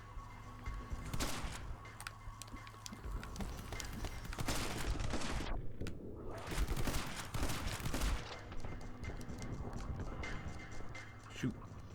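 Rapid gunfire bursts in the My Friend Pedro video game, a dense clatter of shots rising and falling over several seconds, with voices talking over the game.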